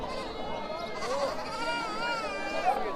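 A castrated male goat bleats in long, wavering cries close by at a goat market, with people talking in the background.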